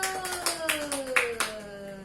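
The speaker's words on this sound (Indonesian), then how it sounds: "Tepuk tangan dulu untuk Bu Nurul." A small audience at a parenting class claps for Bu Nurul: a handful of distinct, close claps at irregular intervals over a sustained voice-like tone underneath.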